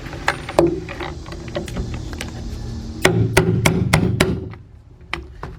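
Irregular light hammer taps on a 2005 Cadillac CTS 3.6 engine during oil pan removal, then a rapid run of five or six sharper metallic strikes, close by, with no voices.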